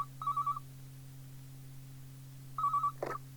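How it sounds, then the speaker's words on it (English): A telephone rings in two short trilling bursts a couple of seconds apart over a steady low electrical hum, with a soft thump just after the second ring. "when the phone rang"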